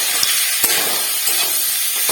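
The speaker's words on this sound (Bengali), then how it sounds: "সমস্ত মশলাগুলো দিয়ে ভাজবো।" Ginger, turmeric and mixed spices fry in a pan for samosa filling, giving a steady bright sizzling hiss that holds throughout with a few soft knocks from stirring, close and fairly loud, no voices.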